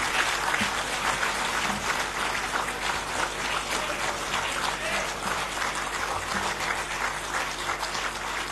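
Sustained applause from the audience at a government MoU exchange ceremony for the Ayushman Bharat health scheme in West Bengal, steady dense clapping filling the whole stretch at an even level with no voices over it.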